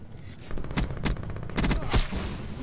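Bursts of VMP submachine gun fire in Black Ops 4 gameplay: several rapid volleys of shots with short gaps between them, loud and close, with no talk over them.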